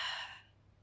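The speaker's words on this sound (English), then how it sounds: "Exhale." A single breathy exhale during a Pilates roll-up, strong at first and fading away within about half a second, close and alone.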